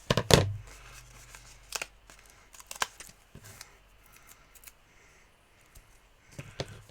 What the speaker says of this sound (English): So I'll bring back my scissors after having cleared them away.